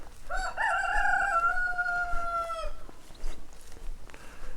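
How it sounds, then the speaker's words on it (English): A cockerel crows one long, clear cock-a-doodle-doo at moderate distance on a Kent farm near Romney Marsh, followed by fainter farmyard clucking and background noise. "These cockerels are always very vocal."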